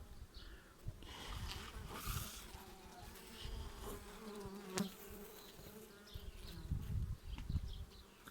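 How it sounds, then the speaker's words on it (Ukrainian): Honeybees crowd and buzz over brood frames in a hive opened for its first inspection after winter, a dense, close, continuous hum with small swells and no voices. "Бджоли його обігрівають, доглядають за розплодом, який ще не запечатаний."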